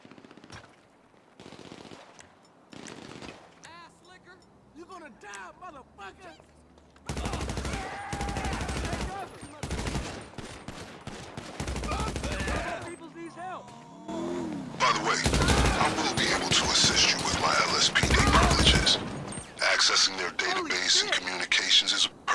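Gunfire in GTA 5 Online, bursts of rapid automatic fire and single shots, loud and close, with talking and radio chatter in between.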